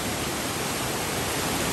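A steady, loud roar of rushing floodwater from Typhoon Tino in Hinaguan fills the clip, constant and unbroken, with no voices.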